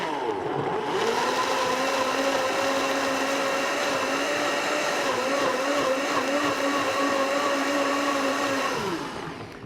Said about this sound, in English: I'm going to blend this first to get some of the water out of the peppers and out of the onions